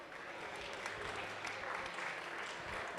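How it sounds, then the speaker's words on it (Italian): Audience at a Federalberghi fiftieth-anniversary evening gala breaks into applause, a soft, continuous wash of clapping heard from some distance and fairly quiet throughout. "abbiamo visto e rivedremo Marica Rotondo, per cui vorrei un bel applauso"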